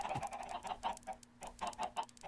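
Chickens cluck in a video game in a quick, uneven series of short, soft clucks, with no talking.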